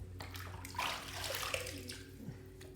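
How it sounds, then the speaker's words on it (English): Water scooped from a bathroom sink is splashed onto a head before a shave, giving a brief, quiet, close-up patter and trickle with no voices. "I'm going to take a little bit of this water from the sink and just throw it on top of my head."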